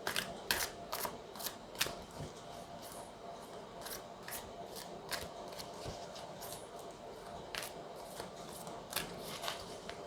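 Tarot cards shuffled by hand for a reading, giving a run of quick, crisp riffling snaps and soft rustles at close range, repeating irregularly over a faint steady background hiss.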